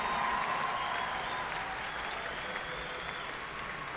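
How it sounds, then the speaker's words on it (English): Steady applause from a large commencement crowd honoring master's students at a spring graduation ceremony, a continuous wash of clapping at moderate distance that tapers slightly toward the end. "Big round of applause"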